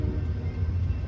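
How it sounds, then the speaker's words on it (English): An Amtrak passenger train hauled by a Siemens Charger locomotive rolls past in freezing weather, a steady low rumble of wheels on rails close by. "Here comes that Siemens charger"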